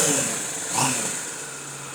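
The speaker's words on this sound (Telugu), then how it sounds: "ఇప్పుడు మీకు స్టార్ట్ చేసి చూపిస్తాను చూడండి" An entry-level superbike engine, a second-hand motorcycle in a used bike showroom, idles steadily close by just after starting, a smooth continuous hum with a slight swell near the start.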